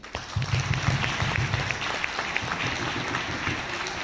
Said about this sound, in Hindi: चलो आप लोग अपने लिए जोरदार ताली तो कीजिए